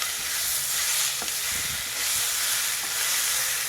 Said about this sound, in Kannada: ಟೊಮೆಟೊ ಸ್ವಲ್ಪ ಸಾಫ್ಟ್ ಆಗೋವರೆಗೂ ನೀವು ಚೆನ್ನಾಗಿ ಫ್ರೈ ಮಾಡ್ಕೊಳ್ಳಿ